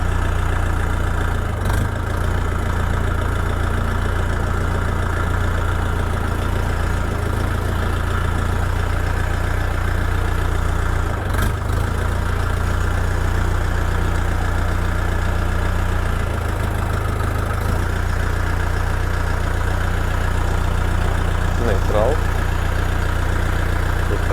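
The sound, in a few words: mini tractor diesel engine idling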